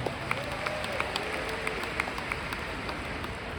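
Audience applause at a leadership training seminar in Jakarta, a steady wash of many hands clapping with a few sharper claps standing out, fairly close and continuous with no voices over it.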